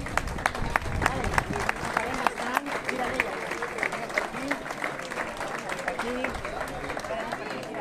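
Crowd applause at an outdoor floral offering festival for Santa Oliva, with sharp individual claps standing out of the dense clapping and voices chattering underneath.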